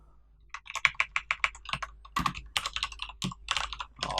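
Kotlin code being typed on a computer keyboard, a close series of crisp key clicks in quick bursts with brief pauses and a few heavier strokes, with no talking.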